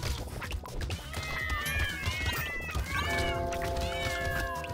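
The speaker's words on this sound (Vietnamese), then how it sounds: "Làm thế nào để giảm bớt cái tiếng mèo kêu đây?" Cat meows in the video game Brotato, repeated and overlapping cries mixed with busy game sound effects and music, loud and persistent.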